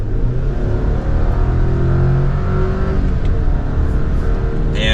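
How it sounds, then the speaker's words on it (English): A 2023 Chevrolet Colorado Z71 pickup truck accelerates gently, its engine droning as a steady, loud hum that climbs smoothly, with constant road and cabin noise heard from inside. "We'll slow down a little bit to do another mild acceleration here."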